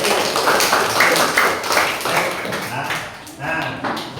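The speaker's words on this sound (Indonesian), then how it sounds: "saya tepuk tangan buat kelas lagi" Rapid, close hand claps in a classroom, led by a teacher applauding the class, with voices talking alongside.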